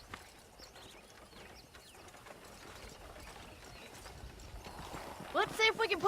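A horse's hooves clip-clop steadily in the video game Red Dead Redemption, a rhythmic trotting that grows louder toward the end, where a bright tonal call briefly rises over the ambience.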